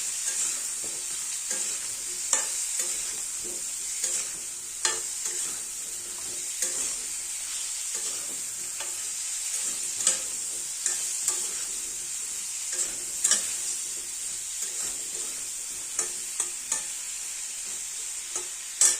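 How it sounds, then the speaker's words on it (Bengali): Potatoes and pointed gourd fry in a pan with turmeric, giving a steady bright sizzle broken by intermittent scrapes and taps of a stirring spoon, close and continuous. "হলুদও দিয়ে দিচ্ছি, ভালো করে এবার মিশিয়ে ভেজে নেব লাল লাল করে।"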